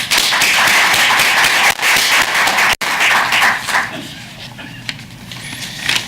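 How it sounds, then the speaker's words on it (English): A conference audience at a transportation technology summit claps in a dense, sustained burst of applause that holds strong for several seconds, then thins and fades away. "Please join me to give them all a warm round of applause."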